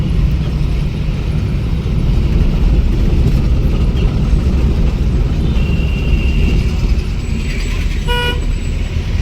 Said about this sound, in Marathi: हे बस स्टँड आहे शिर्डीचं